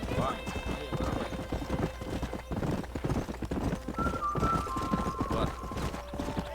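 Horse hooves clip-clopping in Red Dead Redemption, a rapid galloping rhythm with a brief whinny, while someone talks over the game sounds.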